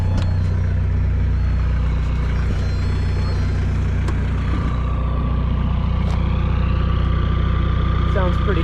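A 1998 VW Jetta TDI diesel with a straight-pipe exhaust starts and idles, a heavy engine rumbling loudly and steadily, a deep continuous drone with a rising whine partway through.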